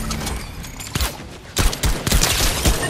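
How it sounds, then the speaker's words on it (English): Machine gun fire in the video game Fortnite, rapid loud bursts of shots, sparse at first and then denser and continuous toward the end, close and punchy. "I need some type of machine gun, so I'm switching out a shotgun for this type of some machine gun."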